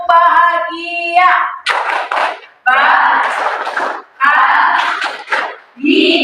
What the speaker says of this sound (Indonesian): Tepuk bahagia.